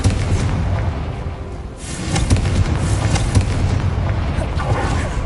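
A Confringo fire spell explodes in Hogwarts Legacy, a deep rumbling boom with a sustained roaring blast that swells again midway, loud and close with no voices.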